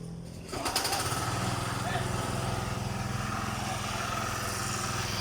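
A cement mixer runs at a construction site where concrete is being prepared for post foundations, giving a loud, steady mechanical engine drone that starts abruptly after a brief lull and continues throughout, with people talking over it.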